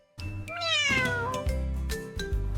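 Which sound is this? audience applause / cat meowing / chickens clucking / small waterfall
cat meowing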